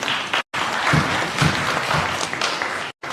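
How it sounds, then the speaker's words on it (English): An education conference audience breaks into a burst of loud, dense clapping that runs nearly three seconds, with brief cuts at the start and end. "can we have a huge round of applause for that?"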